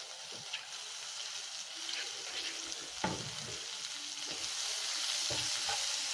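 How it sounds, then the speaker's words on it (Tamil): Onions and tomatoes for masala Maggi sauté in a pan with a faint, steady sizzle and occasional soft stirring knocks, growing slightly louder toward the end. "வெங்காயம் தக்காளி வதங்கிடுச்சு."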